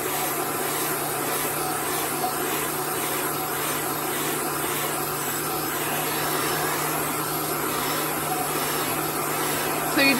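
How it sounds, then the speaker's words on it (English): A heat gun blows hot air to dry chalk paste on a sign. It gives a steady, close, constant whooshing hum that holds at an even level throughout, with no audible talk. "So you just want to move your heat gun continually."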